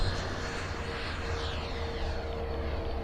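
A Taft Hobby Valkyrie 90mm EDF RC jet flies past, its ducted fan a continuous loud rushing whine with a slowly shifting pitch as power comes back in.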